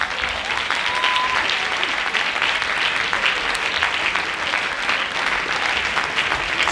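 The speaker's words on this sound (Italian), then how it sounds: "accogliamo con un grande, fragoroso applauso" Audience at a Christmas Eve music, dance and theatre event in Italy applauds to welcome a musician onstage, a dense, sustained burst of clapping from many hands, steady and loud for the whole stretch.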